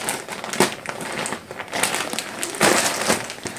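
Cardboard box being torn open by hand without scissors, giving bursts of crunching, crinkling and ripping cardboard in uneven surges, close and fairly loud.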